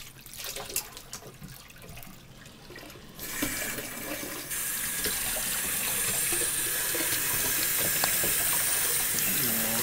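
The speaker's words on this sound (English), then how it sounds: "Turn the water in." Water gushes steadily from a tap during a Sheltie's bath, starting softer and growing into a loud, continuous rush, with brief voices near the start.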